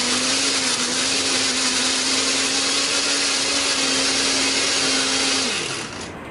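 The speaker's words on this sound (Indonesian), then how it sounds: "Ini tambahkan air supaya lebih gampang untuk memblendernya." A blender whirs loudly with a steady high motor whine as it grinds a spice paste with water, then winds down and stops near the end.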